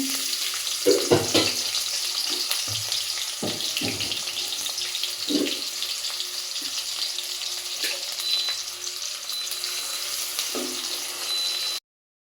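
Dried red chillies, a few bay leaves and onion frying in hot oil, a steady close sizzle with occasional spatters and utensil knocks, and no voices.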